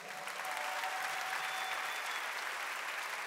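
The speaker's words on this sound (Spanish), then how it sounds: "Fuerte el aplauso." Audience at a live MTV Unplugged concert applauds in a dense, steady wash of clapping that holds at full strength throughout, with no talking over it.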